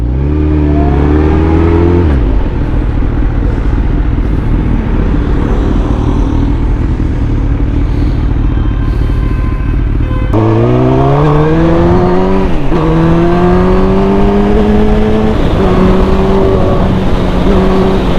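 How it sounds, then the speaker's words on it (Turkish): A motorcycle engine with a faulty throttle that keeps cutting out revs loud and close, its pitch climbing and falling through several rises, dropping away abruptly before picking up again. "Gaz kesiyor motor"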